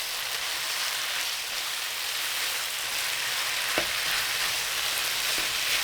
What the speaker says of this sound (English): Add the vegetables and stir for 1 minute.